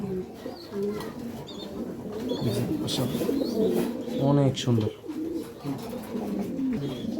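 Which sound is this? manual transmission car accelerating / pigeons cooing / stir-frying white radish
pigeons cooing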